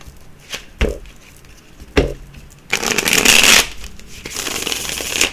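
A couple of soft tarot card taps, then a crisp riffling shuffle of tarot cards, followed by another rapid flutter of cards, close up and with no voices.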